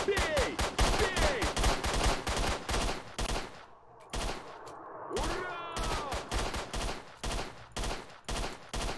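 Gunfire in S.T.A.L.K.E.R.: Shadow of Chernobyl, with rapid repeated loud shots in irregular bursts that continue across the whole stretch, briefly thinning out in the middle before resuming.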